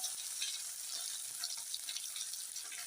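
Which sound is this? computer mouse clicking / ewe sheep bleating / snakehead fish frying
snakehead fish frying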